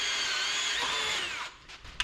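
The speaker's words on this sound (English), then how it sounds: "Same drill that was smoking yesterday." A power drill that had been smoking and overheating the day before runs at a high, steady whine while working on a 1963 Loadstar truck chassis cart, then winds down, followed by a couple of faint clicks.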